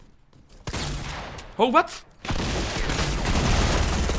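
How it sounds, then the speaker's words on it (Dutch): A double-barrel shotgun fires in the video game Fortnite as a sharp, loud burst. It is surrounded by game noise, and a player's voice speaks briefly before it. "die double barrel is sterk, maar als je moet reloaden"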